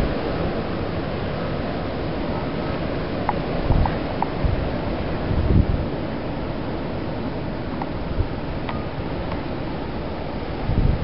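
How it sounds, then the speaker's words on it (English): A North Dakota blizzard with strong wind gusting at 35-40 miles an hour, a dense, continuous roaring rush buffeting the microphone, swelling in brief gusts, with no voices. "The wind's still coming through here a good 35-40 miles an hour with some gusts."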